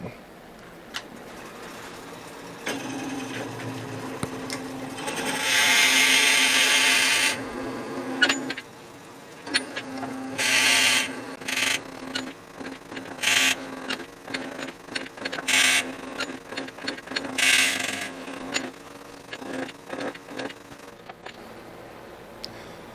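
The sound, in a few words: drilling wood on a lathe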